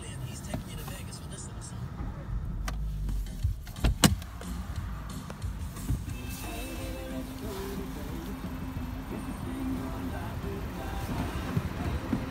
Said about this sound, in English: Electric windows, front and rear.